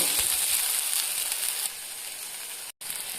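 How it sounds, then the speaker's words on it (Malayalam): Chilli powder, coriander and chicken masala being stirred into a vegetable curry in a pan, a continuous close sizzle with a brief dropout near the end. "ഇത് രണ്ടും ഇളക്കി യോജിപ്പിക്കാം"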